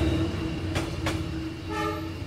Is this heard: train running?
yes